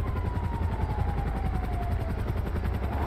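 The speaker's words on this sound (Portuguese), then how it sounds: "Tá, tá vindo um helicóptero mais." A helicopter in a video game: a steady rotor thrum drones continuously with a low pulsing beat, loud and close, with a faint high whine sliding downward.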